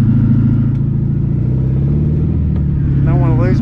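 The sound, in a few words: abandoned Volkswagen Beetle engine running while driving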